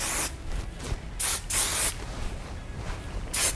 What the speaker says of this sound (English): you can put some more of your texturizing spray and spray and crunch